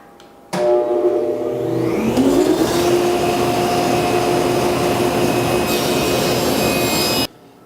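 A power saw cuts wood pieces for a miter frame: the motor spins up into a loud, close, continuous whine, holds steady for about seven seconds, then cuts off abruptly.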